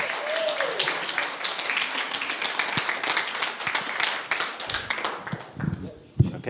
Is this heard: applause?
yes